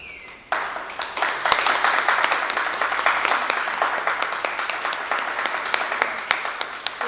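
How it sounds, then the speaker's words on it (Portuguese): Warm applause from an audience at a library talk, steady dense clapping that starts suddenly and continues for several seconds, close and loud. "mas não mereço essas palmas tão calorosas."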